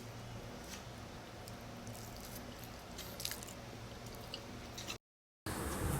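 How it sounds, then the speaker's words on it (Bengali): Someone eats rice with chicken and potato curry, a quiet, close, wet squishing and chewing over soft background hiss, with a brief dropout near the end and no talking. "এখন আমি চিকেন দিয়ে ভাত খাচ্ছি, চিকেন আর আলু।"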